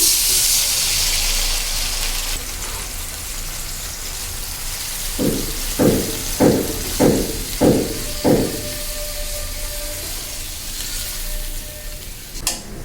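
Water poured into a hot pan of eggplant, potato and spices sets off a steady sizzle, with a run of about six loud bursts in the middle of the clip and a continuous frying hiss around them.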